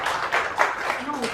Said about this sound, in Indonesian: tepuk tangan buat Mas Sony